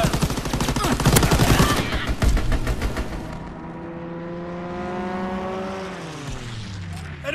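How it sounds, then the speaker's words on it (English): Heavy rapid gunfire from an enemy strafing run in online Call of Duty WWII multiplayer, a loud burst of rattling shots that gives way to a droning aircraft engine sweeping past and fading. "Enemy strafe inbound."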